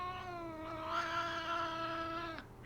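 An elderly cat, almost fifteen, lets out one long, drawn-out meow with a grumbling caterwaul quality. It is close and steady, then breaks off sharply at the end, with no talk over it.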